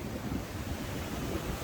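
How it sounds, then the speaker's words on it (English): Rolling waves of the Irish Sea at Blackpool, heard from the sea steps at the water's edge: a continuous low roar of surf mixed with gusty wind buffeting the microphone. "There's a view now of the rolling waves of the Irish Sea today, right on the steps at Water's Edge"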